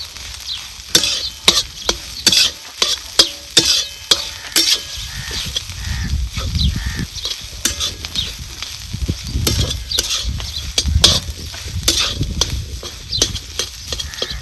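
Ground maize and chilli being sautéed in a pan, with sharp repeated scraping and stirring knocks over a low sizzle that swells and fades, loud and close.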